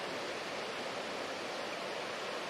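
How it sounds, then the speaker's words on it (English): The Seethagangula stream flowing down from the Sripada mountains toward Maskeliya reservoir over waterfalls, a steady broad rushing roar of water, constant and fairly loud with no voices. "Beyond that is the Seethagangula, the water stream coming from Sripada mountains and flows into Maskeliya reservoir, creating many waterfalls."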